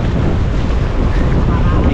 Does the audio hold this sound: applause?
no